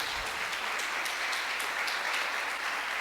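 A church congregation claps for the Lord during a sermon, a steady, even wash of applause that holds at a moderate, slightly distant level for the whole stretch, with no voices standing out.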